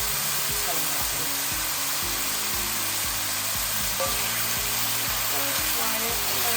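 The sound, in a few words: broccoli frying in a pan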